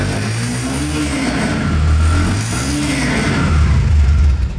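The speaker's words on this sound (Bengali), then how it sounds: "ইঞ্জিন সাউন্ড দেখতে পাচ্ছেন, ইঞ্জিন সাউন্ডটা শুনে নেন।" A Bajaj Pulsar single-disc motorcycle engine idles and revs steadily up close, a continuous loud mechanical drone with slight rises and falls in pitch throughout.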